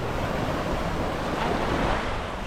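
Steady roar of surf breaking on a warm beach, dense and continuous with some wind buffeting the microphone, loud and close with no voices.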